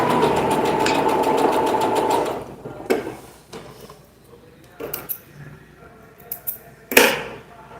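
A sewing machine stitches a 1 cm seam allowance on a dress fabric, a rapid, steady mechanical whir for about two seconds, then stops, leaving scattered clicks and handling knocks.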